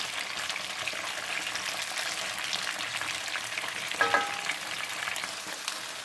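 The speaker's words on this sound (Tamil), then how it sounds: "கொஞ்சம் எண்ணெய் சேர்த்து நல்லா கத்திரிக்காவை வதக்கி எடுத்துக்கலாம்" Steady sizzling of eggplant frying in oil, with a brief clink of stirring partway through; close and continuous, no voices.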